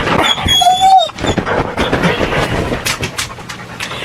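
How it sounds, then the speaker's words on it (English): A dog pants close by in quick rhythmic breaths, with a brief high squeal or whimper near the start and faint room noise behind it. "My sister has a dog."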